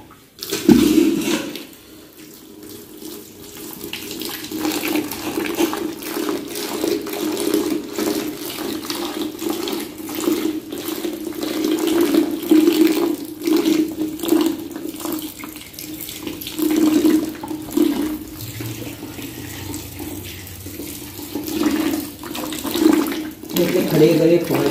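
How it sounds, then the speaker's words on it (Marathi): Water poured into a cooking pot after spice powder goes into a home-kitchen masala dish, a continuous gushing, splashing flow heard up close for most of the stretch, with its pitch shifting slightly as the vessel fills. "पाणी टाकायचं."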